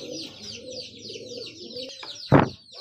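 Racing pigeons coo at a pigeon sale, a close, soft repeated rolling coo, ending with a short sharp thump or flutter.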